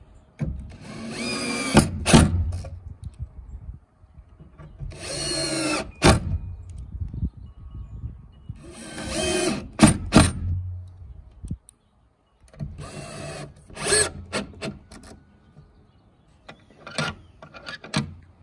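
A power drill with a Phillips tip whirs in repeated short bursts, driving screws through a handle into a 2x4, several separate spins with pauses between them, close by and fairly loud.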